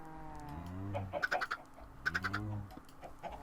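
Chickens on a Minecraft chicken farm cluck in two short, bird-like bursts with a pause between them, close and moderately loud, with no talk over them.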